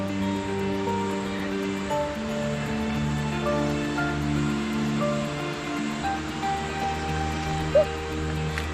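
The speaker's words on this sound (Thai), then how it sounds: "ระหว่างทางที่เดินก็จะเป็นเสียงลำธารจะอยู่ข้างๆ" Steady broadband rushing of a stream flowing beside a forest trail, continuous and fairly close, with a brief small knock near the end and no talking.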